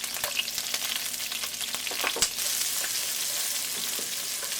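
Garlic and green chili fry in a hot pan for chow mein, a steady loud sizzle with light stirring scrapes and no talk.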